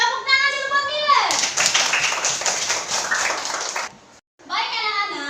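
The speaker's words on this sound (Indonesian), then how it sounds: "Tepuk tangan dulu buat Milen." A class of schoolchildren claps together for a classmate, a burst of dense hand clapping lasting a few seconds, framed by children's voices and chanting before and after.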